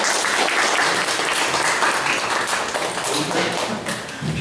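Applause from an audience at an academic colloquium, dense, continuous clapping filling the room for a few seconds, loud and close.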